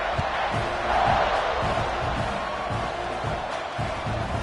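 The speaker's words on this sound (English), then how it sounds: "this crowd is buzzing after that last score" Stadium crowd at a college football game buzzing after a score, a broad steady roar of many voices with no distinct cheers standing out, held at a constant level throughout.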